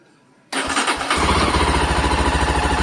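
A Yezdi Adventure motorcycle with a newly fitted battery cranks briefly and fires up, then settles into a loud, close, steady idle with a regular throbbing beat.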